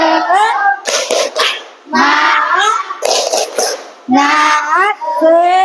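An Indonesian class plays a rhythmic clapping game: loud children's voices chant in a sing-song pattern, punctuated by short bursts of hand claps between the phrases.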